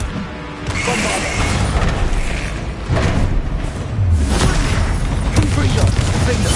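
Repeated heavy magical blasts from a Bombarda spell in a Harry Potter video game, loud booms and crashing thuds layered densely with rumbling debris, with a voice shouting over them.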